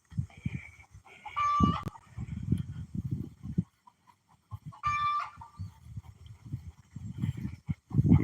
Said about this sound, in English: And you can hear the chicken.